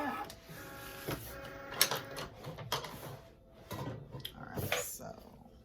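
Cricut cutting machine cutting vinyl, giving a series of short mechanical whirs and clicks with soft thumps, fairly quiet and close, mixed with light handling noise.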